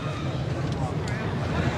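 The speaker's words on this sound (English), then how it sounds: "That breeze is picking up," Breeze gusting across a rugby ground during a Shute Shield match between Manly and North, heard as steady broadband wind rush buffeting the microphone, fairly loud and continuous through the short stretch.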